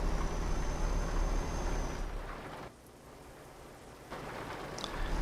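Steady daytime rain patters on a truck in Euro Truck Simulator 2 while driving through South America, a constant hiss over a low engine rumble that briefly quiets, then returns.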